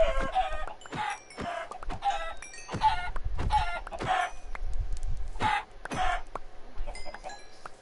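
Chickens in the Minecraft video game cluck in repeated short bursts, several birds overlapping at close range with steady game ambience underneath and no talking.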